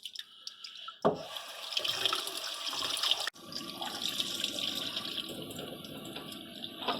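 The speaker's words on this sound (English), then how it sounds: "So we try to rinse them off thoroughly to get as much salt as we can out of it." Tap water running into a sink as butterflied Gulf of Mexico shrimp are rinsed under it, starting abruptly, a close steady splashing with a brief cut midway, no talk.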